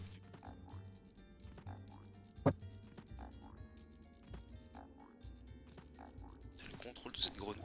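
A frog croaks in the Kuzco, l'Empereur Mégalo video game's laboratory chapter, with a sharp croak near the middle set among game music and other effects, and voices talking partway through.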